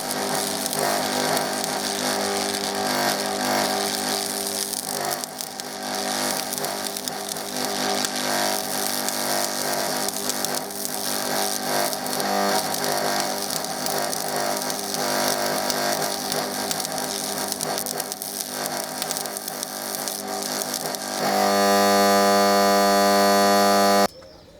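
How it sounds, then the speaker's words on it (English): Electric welding on an old trolley, fixing a strut to the frame: a steady, loud buzzing crackle runs throughout with no pauses, then shifts to a harsher, more tonal hum near the end. "I'm going to have a go at welding it today"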